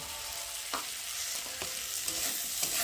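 Tomato, green chillies, onion and potato frying with turmeric and salt in a pan for a pabda fish dish, a steady sizzle broken by several spatula scrapes.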